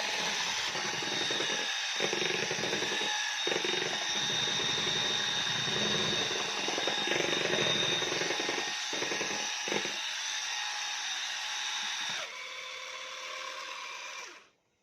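An electric mixer runs at high speed whipping cake cream, a continuous whirring hum with brief dips, steady and close, changing pitch slightly before stopping at the end.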